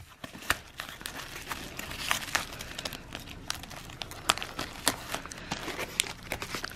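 Paper is folded into a corner protector and taped onto a frame while art is packed for shipping, giving close, continuous crinkling and crumpling with sharp snaps and tape pulls scattered throughout, without speech.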